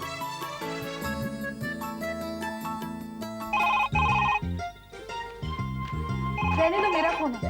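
A mobile phone ringtone plays a bright, looping electronic melody, moderately loud and continuous, with brief pauses between phrases.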